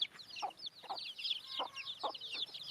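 Hens cluck in short repeated bursts, roughly evenly spaced, against a background of chirping birds; fairly close but quiet.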